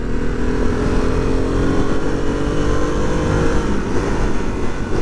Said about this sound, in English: This is an angry little thing. This thing is just wanting to move.